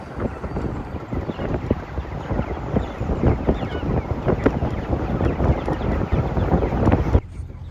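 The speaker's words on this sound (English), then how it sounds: "But they seem to enjoy the breeze" Steady wind buffeting in an open vehicle carrying a flock of young chickens at low speed, a dense continuous rush with thumping low gusts that cuts off abruptly near the end.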